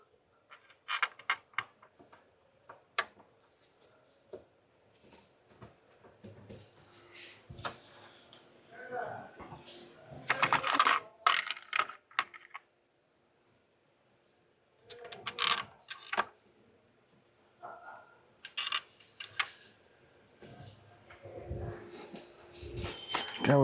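A hand ratchet is worked on the throttle body bolts of a Hyundai Veracruz during spark plug replacement, giving bursts of close metallic clicking and clanking with pauses between them and a voice now and then.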